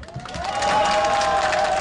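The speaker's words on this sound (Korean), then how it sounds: "힘껏 박수 한번 해주십시오." An outdoor crowd at a political rally applauds and cheers. The sound swells after a quiet start and holds as a loud, sustained wash of clapping, with a tone or voice ringing through it.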